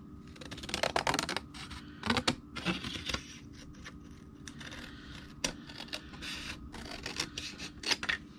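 Scissors snipping around a printed paper card piece for a handmade Mother's Day card, a few short crisp cuts in clusters with quiet pauses between, close and fairly faint.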